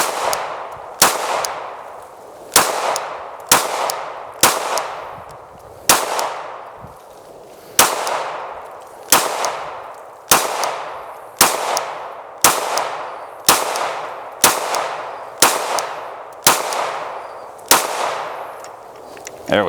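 Glock 17 pistol shots at a shooting range, about fifteen sharp, loud cracks in a steady unhurried rhythm with short gaps between them, each followed by a brief ringing decay.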